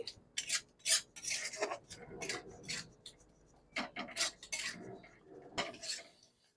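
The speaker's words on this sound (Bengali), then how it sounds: "এবারে আমি সব কিছু খুব ভালো করে নাড়াচাড়া করে নেব" Egg curry masala being stirred and scraped in a pan over low heat, the utensil rasping and clinking against the metal in irregular bursts, fairly close and clear, with no talking.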